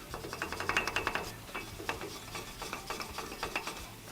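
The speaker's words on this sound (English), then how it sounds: "clean up that hub with a wire brush and some brake clean" A wire brush scrubs a truck's wheel hub during a brake and rotor job, giving steady, rapid scratchy strokes in a continuous rhythmic rasp, close by and moderately loud with no voices.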